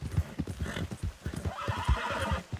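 Horse hooves clip-clop in a quick, steady rhythm in Red Dead Redemption 2, loud and close, with a soft whinny-like breath in the background and no talk.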